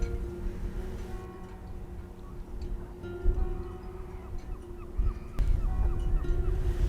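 Shorebirds feeding on the mudflats at low tide near Bosham give scattered honking and calling, fairly distant, over a steady rumble of wind and ambient outdoor noise.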